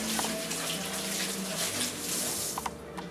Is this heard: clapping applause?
no